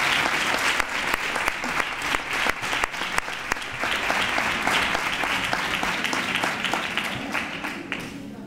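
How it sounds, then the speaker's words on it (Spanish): A crowd applauds warmly at a Three Kings proclamation and coronation event in Nerva, dense sustained clapping for several seconds from a large audience, fading slightly toward the end. "quiero que reciba un cordial aplauso"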